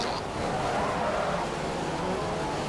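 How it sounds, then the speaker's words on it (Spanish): An F1 2015 race car braking hard at the wet Monaco circuit in the video game, with a loud, steady engine roar and a tyre-scrub skid lasting the whole moment. "Fijaros cómo ahí pegamos el frenazo."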